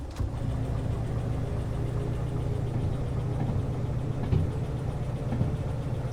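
Steady low rumble of a locomotive pushing a train down a grade in the Derail Valley train game, a continuous engine drone with faint mechanical knocks, no voices.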